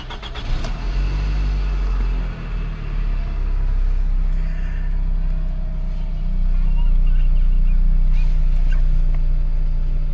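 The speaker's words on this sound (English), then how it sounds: "And we put on the ignition and start the car." A 2005 Toyota Caldina engine cranks and starts, then settles into a steady, loud idle close by, with a low rumble throughout and faint voices in the background.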